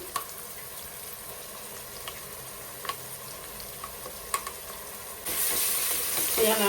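Goat tripe (boti) frying with ginger garlic paste in a pan for a Telangana-style boti fry, a steady close sizzle with scattered scraping clicks of stirring, growing louder and brighter near the end.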